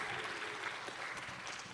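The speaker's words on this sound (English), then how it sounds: "Can we have a big round of applause for both teams?" A live audience at a junior international debate championship final applauds both teams, steady dense clapping filling the room for a couple of seconds without speech.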